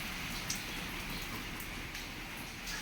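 Steady, dense rain during a thunderstorm hisses evenly throughout, a broad wash of patter with no voices and no breaks.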